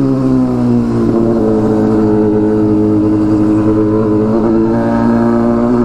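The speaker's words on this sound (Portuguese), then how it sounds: "além do som da moto que tá no megafone, no diretão, o bagulho grita demais" Honda Hornet motorcycle engine revving hard and loud up close, a steady, strongly harmonic exhaust roar with a straight-through pipe that holds high and constant for the whole stretch, no voices.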